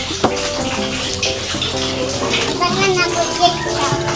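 Water poured from a container for chicken curry dough in a home kitchen, a steady running splash lasting throughout, with children's voices and talk audible in the background.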